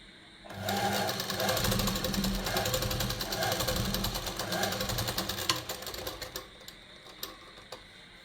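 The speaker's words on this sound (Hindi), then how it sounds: "अब दूसरे दामन भी इसी तरह सिलाई लगा लेते हैं।" A sewing machine runs a rapid, rattling stitch along the hem of a gents' kurta for several seconds, then slows and stops with a few scattered clicks of handling.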